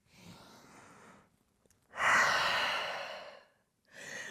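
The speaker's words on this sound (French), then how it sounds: "grande respiration au chien tête en bas" A deep, breathy inhalation and exhalation during a downward dog yoga pose, one long audible breath swelling loudly after a softer earlier breath, with another breath beginning at the end.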